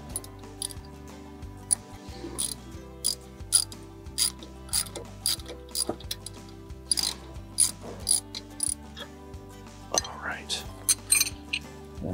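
Repeated ratcheting clicks from a 17 mm wrench and socket loosening nuts on a Kubota L4701 tractor, in short close bursts with brief pauses between them.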